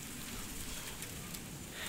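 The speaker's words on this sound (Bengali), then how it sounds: "বৃষ্টি পড়তেছে।" Rain falls steadily during a Kalbaishakhi storm in a village, heard from a rooftop as a faint, even patter and hiss that continues without any talking.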